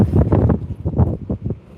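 Gusty wind buffets the microphone in loud, rumbling bursts, with no voices.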